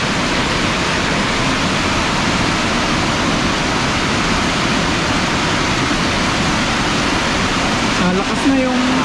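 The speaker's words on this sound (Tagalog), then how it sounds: "Lakas na yung agos oh." Strong floodwater current surging after two days of rain, a dense, steady rushing roar that fills the whole clip, loud and close, with a brief faint clatter near the end.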